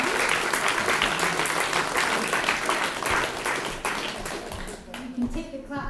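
Sustained applause from a party conference audience in Dundee, a dense, steady wash of many hands clapping that tapers off toward the end, with some voices underneath.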